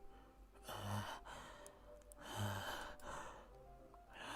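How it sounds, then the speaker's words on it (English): Sharp breathing inhales from the horror visual novel Doki Doki Literature Club Plus, like air sucked through teeth, heard twice in a slow rhythm over a dim background hum, fairly close and moderately loud, with no talking. "It sounds like breathing. A sharp inhale, like someone is sucking the air through their teeth."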